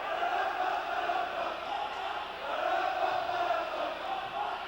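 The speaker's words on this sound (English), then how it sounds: "Crowd is really getting into the game, as you can hear it right here." A crowd at a girls' high school volleyball match cheers in a steady, moderately distant roar that swells and dips over several seconds.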